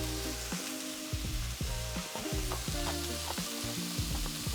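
Ground turkey sizzles and crackles in a pan cooked without oil, a loud steady fry with repeated scraping and stirring strokes, no talking over it.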